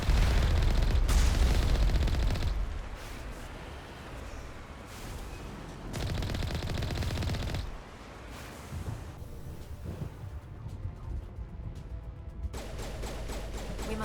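Heavy booming blasts from artillery in the Mass Effect Legendary Edition video game, with loud rumbling bursts at the start and again mid-clip, separated by a lower roaring, windy background din.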